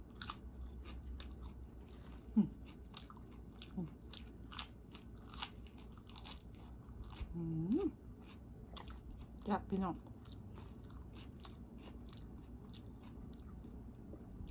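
Someone bites and chews crunchy fresh salad vegetables served with a spicy pork belly salad, giving close, crisp crunches in an uneven rhythm, with a few short vocal sounds between bites.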